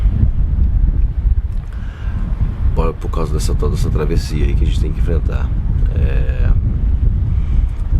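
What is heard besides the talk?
strong wind at a sailboat anchorage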